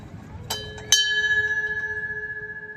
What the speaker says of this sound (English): All right, we're just gonna ring the bell.